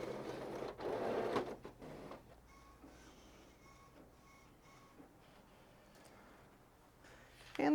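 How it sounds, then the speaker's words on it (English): A Print Moda fabric printer printing a design: after a louder burst of handling noise, a quiet mechanical whir with faint tonal motor hums and soft periodic clicks of the print head runs on. "And the printer will print out the design."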